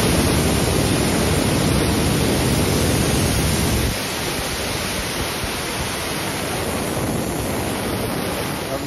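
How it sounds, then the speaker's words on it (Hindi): Pressurized gas hisses loudly and steadily out of a CNG cylinder being emptied for cleaning, a broad continuous rush that drops slightly in strength partway through and then keeps going. "अब इसका गैस निकल गया"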